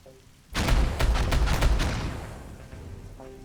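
A firing line in RimWorld opens up with a rapid burst of several close gunshots that blend into a rolling volley, then fades away over about a second with no voices.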